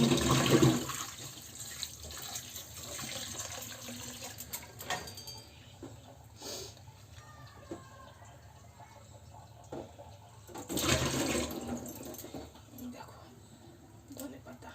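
Water runs from a tap while something is washed, a continuous splashing flow with louder surges at the start and again near the end.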